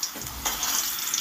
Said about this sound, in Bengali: আলুগুলো লাল করে ভাজা হয়ে গেছে।